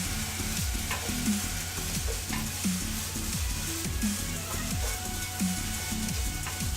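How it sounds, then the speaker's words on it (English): Sausage and peppers frying in a pan, giving a steady close sizzle with scattered pops and the repeated scrape of stirring, with no voices over it. "You guys hear that popping and sizzling coming off?"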